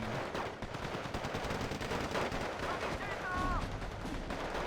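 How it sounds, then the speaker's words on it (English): Rifle fire from Kar 98s and other small arms in the video game Steel Division 2, a dense, continuous crackle of overlapping shots and bursts at moderate distance, with no clear pauses. "Lots of fire coming out. Kar 98's reloading and firing."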